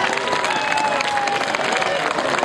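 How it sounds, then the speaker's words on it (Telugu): An audience at a Telangana Formation Day celebration applauds steadily and loudly throughout, a dense unbroken patter of many hands clapping in a hall. "వారందరికీ ఒకసారి కరతాళాలతో మీకు క్లాప్"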